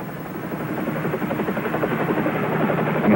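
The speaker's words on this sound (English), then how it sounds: "That sounds like a helicopter." A helicopter's rotor thrums steadily with a rapid pulsing beat, fairly loud and continuous throughout.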